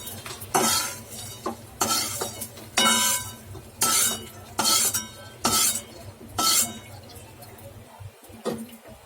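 Edible gum roasted in oil in a pan for healthy laddoos, a faint sizzle under a series of regular scraping strokes and metallic spatula clinks, close and rhythmic, ending with a couple of scattered knocks.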